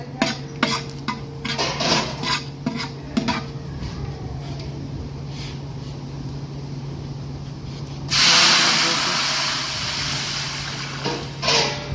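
Cumin, asafoetida and curry leaves hit hot oil for jeera rice: after several seconds of scraping and clattering, a loud sudden sizzle bursts out and holds as a steady broad hiss, easing slightly toward the end.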